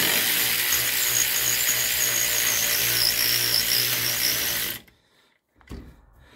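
A power tool whirs loudly and steadily as it tightens an alternator bolt on a 2008 Toyota Corolla, then cuts off abruptly, followed by a brief short whir and silence.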